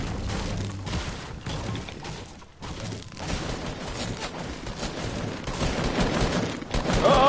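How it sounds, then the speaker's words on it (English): Dense, continuous machine gun fire in a PS4 video game, a loud rattling fusillade of rapid shots with bursts and explosions layered throughout, no talk. "Machine guns!"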